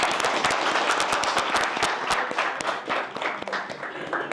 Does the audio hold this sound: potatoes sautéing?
no